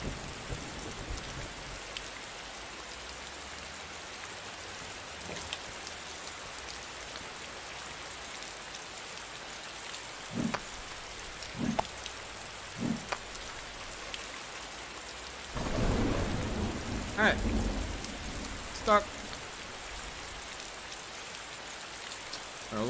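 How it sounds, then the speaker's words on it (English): Steady rain pours in the survival game Lost Shipwreck while several thunder cracks strike at intervals, one long rumbling roll building midway before fading back into the constant downpour. "I am standing in the rain"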